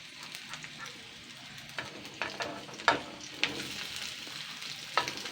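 Chopped onion fries in oil at the start of a raw peanut bhorta, a low steady sizzle broken by sharp spatula clicks and taps against the pan, fairly quiet and close.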